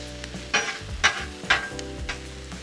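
Chorizo burrito filling sizzling on a Blackstone griddle, with three or four sharp scraping strokes of a spatula stirring it over a steady fry.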